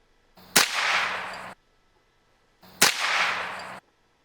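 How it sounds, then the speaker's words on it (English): Two sharp gunshots cracking over a Caldwell G2 chronograph, each a loud, close report followed by about a second of hissing echo, with a pause of a couple of seconds between them. "Let's take a couple quick test shots."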